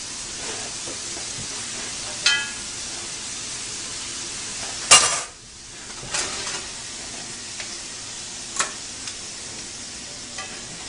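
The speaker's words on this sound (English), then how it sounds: "So now what we're going to do is we're just going to drain this off into a colander." Cooked hamburger is poured into a colander to drain, making a soft continuous hiss and trickle with a few light clinks and scrapes of a utensil against the cookware.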